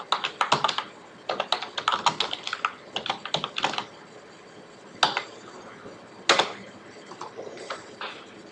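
A computer keyboard clatters in quick bursts of typing, then two isolated louder keystrokes like pressing enter, close and clear with no talking.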